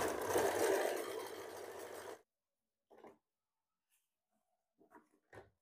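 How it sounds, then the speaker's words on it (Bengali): A sewing machine stitches cloth in one steady, fairly loud burst lasting about two seconds, then stops. Only a few faint brief handling sounds follow in near silence. "এটাও মুহুরের দিক থেকে সেলাই করছি"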